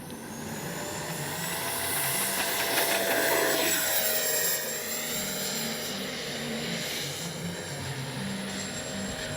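An FMS 64mm Futura RC jet flies overhead, its ducted-fan whine rising and falling as it passes at moderate distance over steady outdoor background noise, with no talking.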